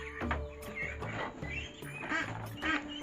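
Ducks quacking close by in a village yard, a busy run of repeated nasal quacks overlapping one another at a fairly soft overall level.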